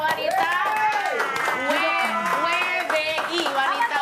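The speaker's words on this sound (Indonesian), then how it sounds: "Tepuk tangan dong buat wanita-wanita." Hands clap in a fitness dance studio as women celebrate after an exercise routine, with lively, overlapping talking and laughter on top of the clapping.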